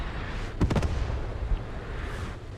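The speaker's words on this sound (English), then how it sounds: "That's got to be Allied artillery" Allied artillery fire in the World War II game Post Scriptum, a quick cluster of sharp booming blasts followed by rumbling aftermath and a fainter single thump, loud against a low battlefield background.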